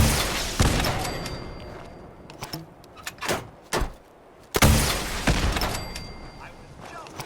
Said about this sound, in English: I do have this missile launcher. Might as well just use it.